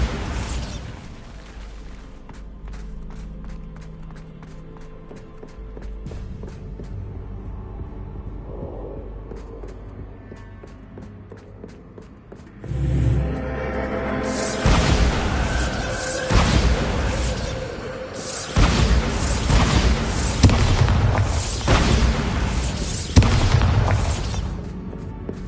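In the video game Hogwarts Legacy, a Bombarda blasting spell goes off: a quiet stretch of game ambience gives way to a sudden loud boom, followed by several heavy crashing bursts and rumbling debris that continue to the end.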